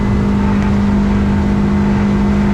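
A 2006 boat with an outboard motor runs at full throttle on a river, giving a loud, steady, close engine drone with a strong constant hum and wind and water noise, with no talking.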